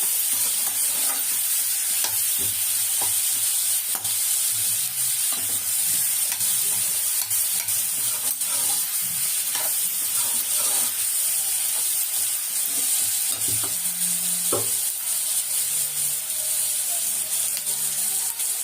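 Tomato and onion sautéing in a pan, with a steady frying hiss throughout, punctuated by frequent spoon scrapes and stirring clatter, close and constant with no talk.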